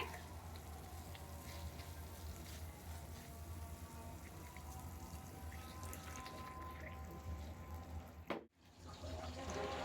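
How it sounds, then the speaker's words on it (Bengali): Water poured into a pan of dragon chilli chicken, a continuous gentle running and splashing stream heard close up for several seconds before cutting off abruptly, then resuming faintly, with no voices. "আমরা এখানে কিছু পানি অ্যাড করছি"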